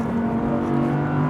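An Audi R8 with a mid-mounted, naturally aspirated 5.2-litre V10 revs on a race track, a brief, loud, sustained engine drone with shifting pitch and no talk.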